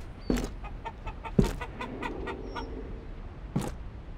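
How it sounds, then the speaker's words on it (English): Clucking and a few scattered rooster calls from a caged rooster in the video game The Walking Zombies II ring out against a quiet background, punctuated by sharp clicks and thumps. "I hear the rooster."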